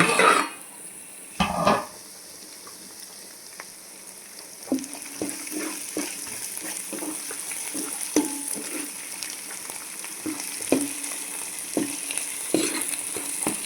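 Onions fry in a pan for an Andhra-style fish curry, a low continuous sizzle punctuated by repeated scrapes and clinks of a spatula stirring, with a louder clatter of cookware near the start.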